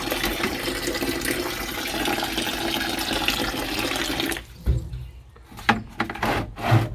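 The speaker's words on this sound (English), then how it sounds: "we're going to water these guys in" Water poured from a tank on a truck onto newly planted trees in the bush, a steady rushing, splashing flow that stops abruptly partway, leaving scattered soft knocks and rustles.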